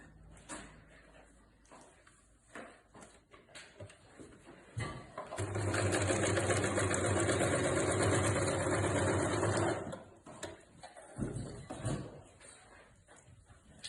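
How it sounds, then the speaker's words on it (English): A sewing machine stitches a side seam in a crafting workshop, running as one steady humming, rapid whirr for about four seconds, with quieter handling noises and clicks before and after. "So I'm just going to sew the side as well."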